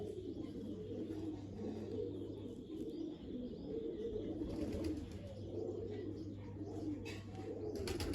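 Pigeons coo steadily in low, throaty murmurs, several birds overlapping continuously, with a faint mechanical hum underneath and occasional light chirps.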